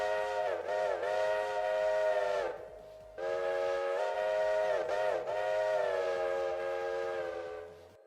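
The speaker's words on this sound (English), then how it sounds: "I like the sound of the whistle." A locomotive chime whistle in the Railroader video game sounds in three long, loud, harmonious blasts separated by short gaps, the last one trailing off.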